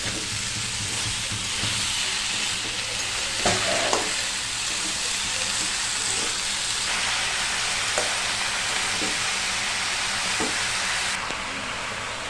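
Leafy greens drop into a pan of frying vegetable curry, giving a steady, close sizzle with occasional scraping stirs and soft clatter.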